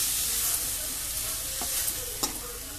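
Finely chopped onions sauté in hot oil with cloves, cardamom and cumin, a steady close sizzle broken by a couple of sharp scraping stirs of the spoon against the pan.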